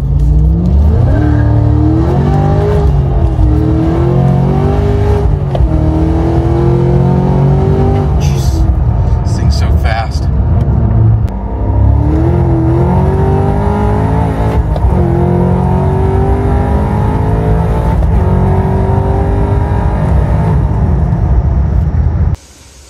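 A Cadillac CT5-V Blackwing with Magnuson supercharger upgrades and Kooks headers, street tuned, revs hard on a dyno. The engine's pitch climbs through long, loud, sustained pulls, with a brief drop in the middle before it winds up again.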